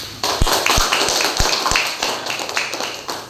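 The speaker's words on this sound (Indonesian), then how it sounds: "Yang lebih keras lagi tepuk tangannya." Classroom applause for a student group that has just presented, a steady crowd clatter of hands with a few sharper near claps standing out, lasting a few seconds without voices.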